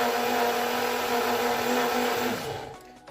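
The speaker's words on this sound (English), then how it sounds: "So I'm going to add it to my blender." A kitchen blender mixes a smoothie with a loud, steady whirring roar that holds constant, then winds down and stops near the end.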